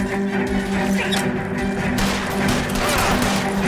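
Gunfire during a cover shootout in the video game L.A. Noire, with dense overlapping shots and impacts over a steady hum of game ambience and music.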